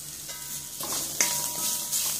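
Drumstick leaves for thoran, with crushed coconut, fry in a pan: a steady close sizzle with soft scraping stirs and a few louder bursts, no voices.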